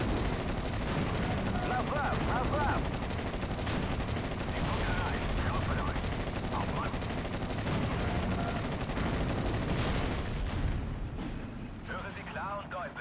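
Tank gunfire and explosions in a video game battle, with repeated booming shots and rumbling blasts over a continuous din of combat, and a voice talks over the fighting.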